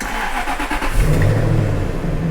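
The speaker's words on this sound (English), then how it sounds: "start the engine" A Jaguar car engine cranks and catches, then revs up loudly and settles into a steady mid-pitched idle, close by with no voices.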